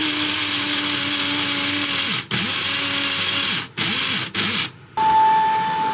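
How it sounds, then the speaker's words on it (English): A vacuum cleaner hoovers inside a motorhome parked on a grass field, its motor a steady, loud, close whine that is briefly cut or muffled a few times near the end. "Just giving the place a hoover."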